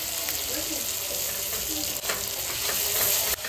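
Spice paste with turmeric and chili powder sautéing for chicken biryani, a loud continuous sizzle with occasional stirring clicks and scrapes close up.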